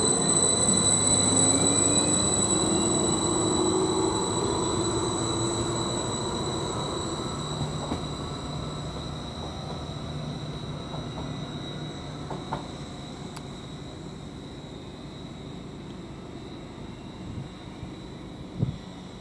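A passenger train departs Trimley station bound for Ipswich, a steady low rumble with squealing wheels and high whining tones, loudest at first and gradually fading as it pulls away, with a few faint clicks near the end.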